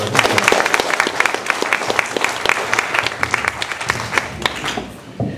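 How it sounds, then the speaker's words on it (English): Audience applause at a St Patrick's concert by the Loughinsholin Cultural Group in Tobermore: loud, dense clapping from a crowd, steady throughout and tapering off at the very end. "Applause to Loch Lynn Culture."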